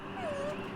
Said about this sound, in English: Sad puppy noises.